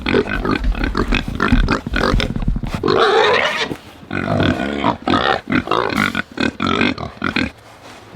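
Pigs grunting and squealing at feeding time on a farm, loud, close and continuous with dense overlapping snorts and oinks from several animals.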